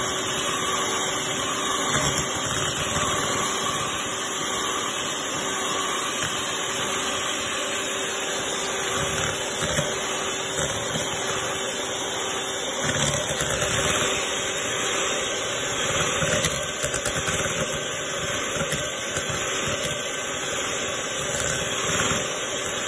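A hand mixer whirs steadily while beating 300 grams of cream cheese for a no-bake mango cheesecake, a continuous motor drone with faint bumps of the beaters against the bowl, running alone throughout.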